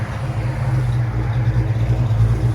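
A 1969 Ford Falcon inline six with Flowmaster Super 10 dual exhaust idles close by, giving a steady deep rumble with an even low-pitched pulse.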